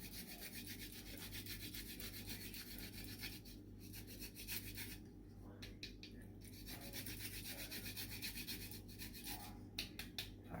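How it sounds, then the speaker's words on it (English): Nutmeg is grated on a small nutmeg grater, producing a close, continuous scraping rasp in repeated strokes with brief pauses, fairly soft overall. "you have a little old grater, nutmeg grater. So I'm going to put in a little bit of nutmeg"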